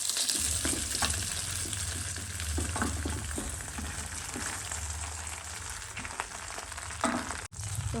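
Steamed dhokla tossed into a cumin and curry-leaf tempering, a steady close sizzle and frying hiss with scraping stirs throughout, no talk.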